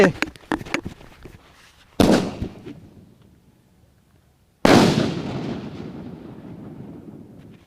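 Crackling pops give way to a Sivakasi-made firecracker bang, followed by a second, louder blast whose booming echo fades slowly. A voice is briefly heard.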